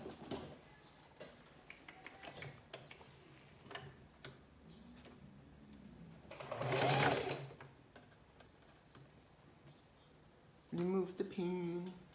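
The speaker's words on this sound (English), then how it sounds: "So you're gonna sew down right here." A sewing machine stitches tulle for a toddler dress in short bursts. Light ticking and clicks come between runs, with one louder whirring stretch in the middle and another near the end, all fairly quiet and close.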